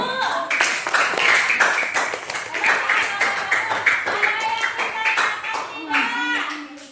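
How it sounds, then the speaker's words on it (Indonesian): A small group of students claps in rapid, uneven bursts close by in a classroom, with children's voices and chatter mixed in among the claps. "Tepuk tangan untuk kelompok 1."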